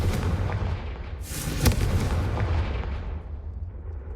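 A fiery Confringo spell blasts in Hogwarts Legacy, a booming burst with a sharp crack in the middle and a rumbling tail that fades out.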